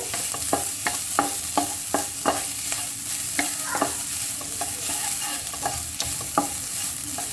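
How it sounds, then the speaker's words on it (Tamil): Grated coconut sautéing in a pan for a black sesame seed dish, with a steady broadband sizzle broken by regular sharp scrapes of a spoon stirring against the pan, close and fairly loud, no talk. "அடுத்தது தேங்காய் கொஞ்ச நேரம் வதக்குங்க"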